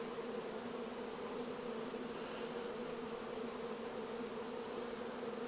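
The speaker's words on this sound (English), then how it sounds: "The way how the bees are moving in, Going that way" A honeybee swarm being caught and dropped by a beekeeper on a regenerative farm hums steadily and densely at close range, an unbroken buzzing drone with no talk.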